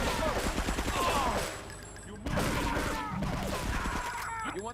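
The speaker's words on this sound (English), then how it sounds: "Why are you shooting me?" Gunfire in the video game GTA III, rapid bursts of shots crackling in clusters with a brief lull between volleys, fairly loud and near, with street noise around it.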